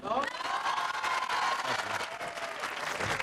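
Sustained applause from a studio audience for Paco Stanley, the dense clapping running steady and loud throughout with a few cheers mixed in.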